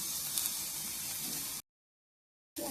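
Yardlong beans fry with garlic cloves, green chillies and black cumin in a pan, a steady close hiss and sizzle that cuts out briefly, then resumes.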